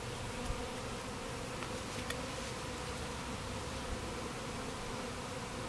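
Honey bees swarm around an opened hive during a honey harvest, making a dense, continuous buzzing drone that stays steady and fairly faint throughout, with no voices.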